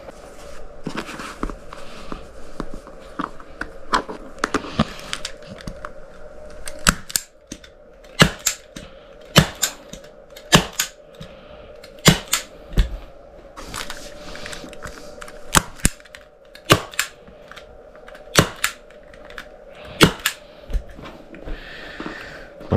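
Staple gun firing repeatedly into a dirt bike seat cover during a seat re-cover, sharp close snaps at an irregular rhythm, roughly a dozen loud shots over a steady low hum, with no talking.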